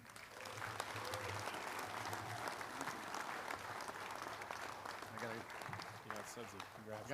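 An audience claps steadily to welcome an honoree at the Ottawa High School Hall of Fame ceremony, a dense, sustained wash of applause that fills the hall from start to finish, with voices and a few cheers mixed in.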